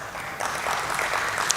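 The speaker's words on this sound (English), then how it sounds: "Please welcome them with a round of applause." Audience applause at a BSE stock exchange listing ceremony for an SME company, a steady patter of clapping filling the room throughout at moderate loudness, with no talking over it.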